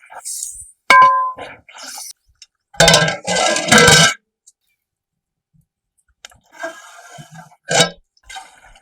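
Free-range country chicken pieces and water are stirred in a pot for a village-style pepper gravy, giving loud intermittent metallic clanks, scrapes and clicks separated by quiet gaps.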